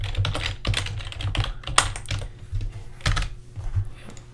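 Computer keyboard keys pressed in a quick irregular run of clicks with short pauses, close and fairly quiet, no talking.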